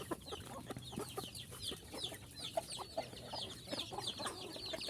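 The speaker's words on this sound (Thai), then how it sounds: "นี่ครับ ไก่ไข่อยู่ตรงนี้ครับ" Laying hens cluck and chatter softly in a group, overlapping short calls at moderate distance, with light rustling in a quiet farmyard.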